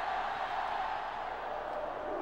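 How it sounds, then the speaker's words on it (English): Broad, steady roar of a stadium crowd in the NCAA Football 06 video game, a dense continuous wash of cheering with no clear breaks. "Gotta love the crowd sound."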